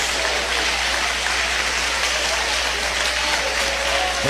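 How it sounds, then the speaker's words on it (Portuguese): Church congregation applauding, a dense, steady wash of clapping that fills the space evenly from start to finish with no voices standing out. "Eu quero ouvir palmas misturado com glória a Deus."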